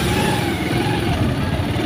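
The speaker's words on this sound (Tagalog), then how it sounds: "Gumagana na guys yung full start starter." A vehicle engine runs steadily after being started by its starter motor, a loud, close, continuous rumble with a slight rising rev.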